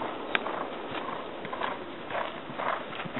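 A horse moves around a riding arena, its soft hoofbeats thudding faintly and evenly against low background noise.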